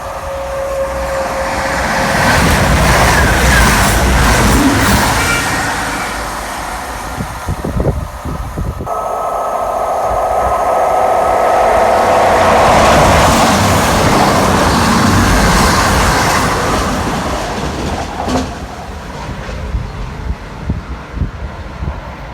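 Two Voyager trains pass through Yate Station in turn, each a loud, close roar of wheels and engine that swells, holds and fades, with wind buffeting and no talk.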